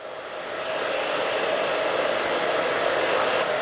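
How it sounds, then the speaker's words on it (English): A hair dryer blows a mullet haircut upward, a loud steady whooshing drone with a constant motor hum that ramps up in the first half second and then holds steady, with no talking over it. "just with my hands, blow dry this up."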